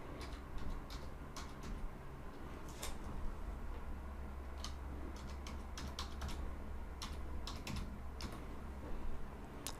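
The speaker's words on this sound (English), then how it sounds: "now here's where I can type in my email" Computer keyboard keys clatter in quick irregular bursts while an email address is typed into a login page, close and fairly quiet over a steady low room hum.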